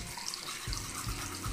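A bathroom water faucet runs steadily in a sink with a noisy, broadband rush, and low squeaky thumps come in at intervals as the handle is worked. The sound is close and continuous with no talking.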